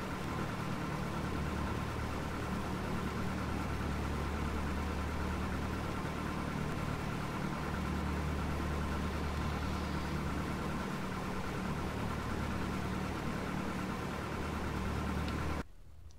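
A Cessna 172 engine idles steadily at the ramp while warming up in the A2A flight simulator, a continuous droning hum that holds even throughout and drops away abruptly at the end.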